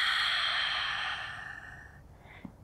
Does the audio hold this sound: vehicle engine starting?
no